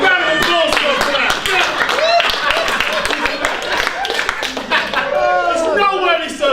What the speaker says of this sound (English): It's a round of applause for that